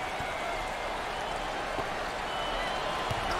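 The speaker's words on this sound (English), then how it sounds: "This crowd is unbelievable tonight." Packed arena crowd at an NCAA tournament first-round basketball game, Texas Tech versus Illinois, roaring in a dense, steady wash of cheering and applause that holds at a constant loud level throughout.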